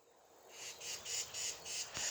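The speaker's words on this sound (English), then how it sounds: "That bird is going wonky." An outdoor bird calling in a rapid series of about seven short, bright chirps, evenly spaced and moderately close, with faint background hiss.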